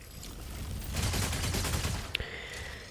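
Gunfire unloading on a Tricera in a video game: a dense, continuous burst of rapid shots rising to a loud stretch, then a sharp metallic clank and a lingering high whine, with no voices.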